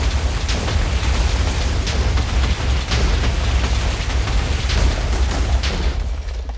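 Rapid barrage of rocket fire from a four-rocket launcher in the Minecraft Tech Guns mod, a dense, continuous rumble of blasts and bursts with repeated sharp pops over a heavy low roar, loud and sustained throughout.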